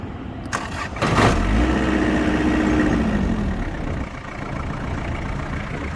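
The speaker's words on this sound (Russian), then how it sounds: "Такие четырехцилиндровые тракторы работают прям божественно." A four-cylinder tractor engine with a rotary tiller attachment cranks briefly, catches and settles into a steady, smooth idle, heard close up with no talking.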